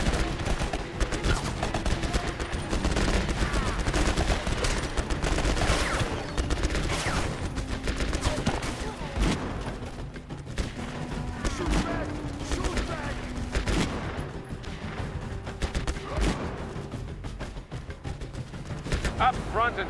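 Dense, continuous gunfire from a military shooter video game, volleys of automatic bursts and heavier blasts rolling through the whole stretch alongside game voices.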